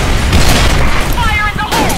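A loud grenade blast in the shooter game Special Force 2, a dense booming burst that fills the short moment, with shouted voices over it.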